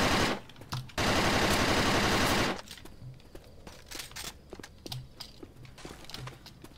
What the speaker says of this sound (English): M16